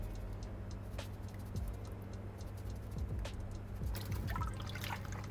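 Washing soda is stirred into a container of water for turmeric tie dye, making quiet trickling and sloshing sounds that grow busier toward the end, over a faint steady hum.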